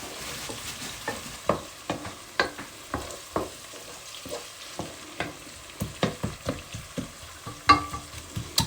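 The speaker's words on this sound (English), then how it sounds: "Let me just stir that while she's doing that. Make sure it evenly cooks out. Just keep stirring," Curry being stirred in a cooking pot, a steady run of close scraping and knocking strokes against the pot over a soft sizzle, with no talking.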